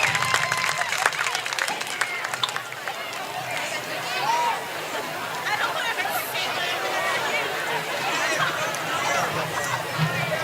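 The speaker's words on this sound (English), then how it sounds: "Let's give a huge round of applause to our 2004 State Championship softball team." A crowd applauds the 2004 state championship softball team at a Fannin County vs. Dade County football game, with steady clapping and loud chatter and cheering mixed throughout.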